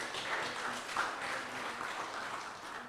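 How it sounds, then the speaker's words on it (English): A round of applause from the audience at a party constituency branch meeting in St. Philip West, Barbados, steady and moderately distant, with soft overlapping claps throughout and no clear talk. "a round of applause again"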